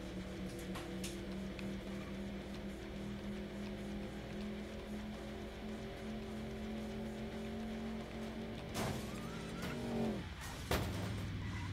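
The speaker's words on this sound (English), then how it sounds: "Vague car type noises." Engine drones from cars in the video game Crash Wheels, a steady buzzing hum with a few sharp crash-like bangs and a brief swooping tone near the end.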